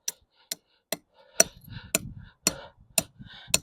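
A hammer drives a bolt down into a drilled hole with eight sharp, evenly spaced metallic strikes, close and distinct, with faint scraping between the later blows.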